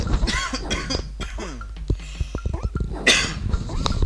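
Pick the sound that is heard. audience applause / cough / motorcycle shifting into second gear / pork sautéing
cough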